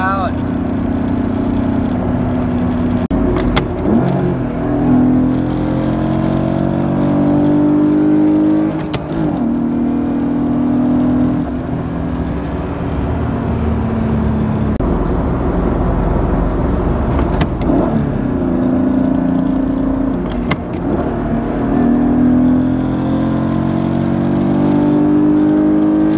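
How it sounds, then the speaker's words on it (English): BMW E36 drift car engine revving steadily and loudly for a long stretch, pitch rising and falling in repeated pulls with sharp transient pops, people talking over it. "I want to rev her out"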